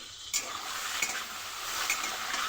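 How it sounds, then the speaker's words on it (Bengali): Shrimp with turmeric and salt hitting hot oil with fenugreek, cumin and bay leaf in a wok, a sudden close sizzle that keeps up steadily, with a few faint stirring scrapes. "তারপর চিংড়ি মাছটাও দিয়ে দিলাম।"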